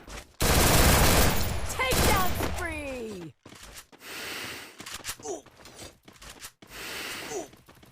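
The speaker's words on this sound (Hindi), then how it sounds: "एक बंदा साइड से भाग रहा था, उसके ऊपर थोड़ा सा फायर करता हूँ" Gunfire rings out in a squad-versus-squad battle royale match, in loud close bursts followed by scattered shots, with whooshing effects and breathy sounds mixed in.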